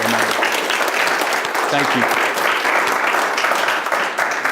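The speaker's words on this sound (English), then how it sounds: "I think it'd be appropriate if we gave them a round of applause for their sacrifice they made." Loud, dense applause from a community crowd at a mayor's neighborhood evening event, honoring first responders; sustained clapping throughout with a voice briefly speaking over it.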